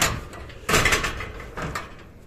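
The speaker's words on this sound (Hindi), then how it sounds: "खुल गया है दरवाजा।" A heavy door swings open at the Ahinsa Sthal Jain temple in Alwar, giving a couple of loud, rough scraping sweeps close by, one after the other, with no voices.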